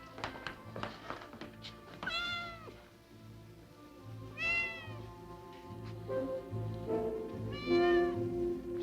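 Cartoon cat meowing in an old animated episode, three drawn-out rising-and-falling meows spaced apart, with soft taps and background score beneath.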